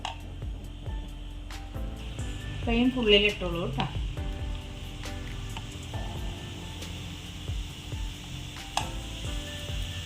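Tomatoes for a pickle fry in a hot pan, a steady close sizzle with stirring and scraping, swelling briefly as they go in, while someone talks over it.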